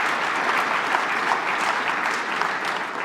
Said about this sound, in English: that's applause-worthy